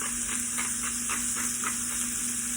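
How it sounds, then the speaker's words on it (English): Sirloin steak searing in butter in a skillet gives a steady, close sizzle and hiss that runs without a break, with faint crackles pulsing over it. "You can hear that nice sizzle going on."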